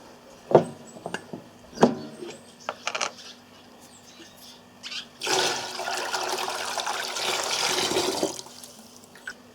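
Apricot moonshine poured by eye into a vessel, a gurgling splash of liquid that swells and runs steadily for several seconds after a few scattered clinks and taps.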